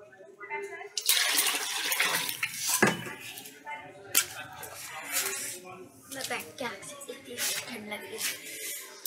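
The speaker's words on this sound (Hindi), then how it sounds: "बड़ी मम्मी का कहना है कि मुर्गे का मीट दो बार धोना चाहिए।" Running water splashes as raw chicken meat is washed, with clinking dishes and wet handling noises while people talk close by.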